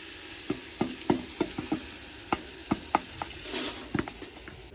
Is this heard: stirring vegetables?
yes